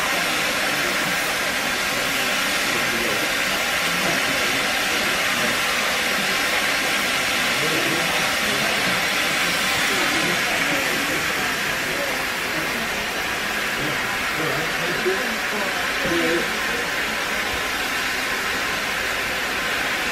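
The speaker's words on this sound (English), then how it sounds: "they're running some crew training trains, so I can see the steam there" Steam locomotive on a crew training run on the West Somerset Railway, giving a steady broadband hiss of steam that holds at an even level for the whole stretch, with no clear chuffs or whistle.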